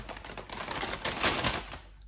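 Bags of wool from a craft kit rustle and crinkle in a short, close burst of dense crackling handling noise, alone and moderately quiet.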